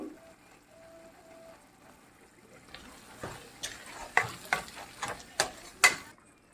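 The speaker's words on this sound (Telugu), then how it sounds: "ఇప్పుడు మనం ఒక రెండు స్పూన్ల కారం ఒక స్పూన్ ధనియాల పొడి అది కూడా వేసుకొని మంచిగా కలిపేసుకుందామండి" Chili powder and coriander powder are stirred into a potato and tomato curry frying in a pan. A soft sizzle comes first, then a run of distinct spoon scrapes and clinks grows louder up close.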